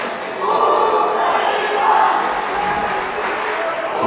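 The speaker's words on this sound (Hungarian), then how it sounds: "Megint a közönség hangja." Crowd cheering and shouting in a boxing arena at the 2023 Bocskai István Memorial amateur tournament, a loud sustained roar of many voices that swells and stays dense throughout.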